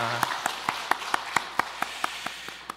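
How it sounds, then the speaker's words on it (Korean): A church congregation at a Sunday morning service in Ulsan claps in a slow, even rhythm of about a dozen sharp claps, with a faint organ or keyboard tone held underneath at the start. "서로를 위해서 박수 한번 드릴까요?"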